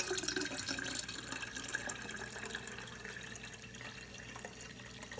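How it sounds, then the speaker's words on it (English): Plain kombucha poured from a bottle into a glass jar, a steady liquid stream with splashing that runs continuously for several seconds, close and moderately loud. "I'm going to pour half of this bottle into the jar."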